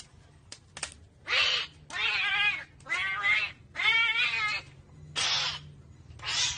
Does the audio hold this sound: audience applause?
no